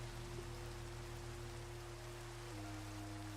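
Steady rain falling in the Minecraft video game, a continuous even hiss of drops with a low droning tone beneath it, filling the short stretch alone without any talk.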